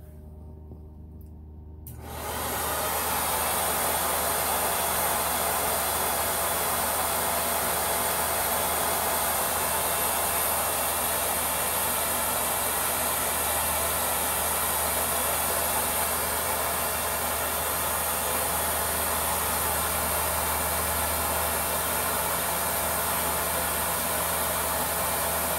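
A Henry HVR200-11 vacuum cleaner with its wands attached switches on after a brief lull, then runs as a steady, loud, hissing whine that holds unchanged throughout.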